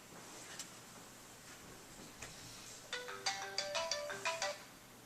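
A phone rings with an incoming call placed by an SMS app, a clear electronic ringtone pattern of repeated bright tones arriving in a quick rhythmic burst in the last couple of seconds after faint clicks.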